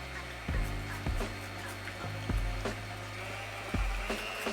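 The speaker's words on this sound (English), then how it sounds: "I way prefer to use a hand whisk over an electric one" Egg whites beaten by hand with a whisk, sugar added as they work toward stiff peaks, a steady close scraping whirr with regular clanks of the wire against the bowl, no talk.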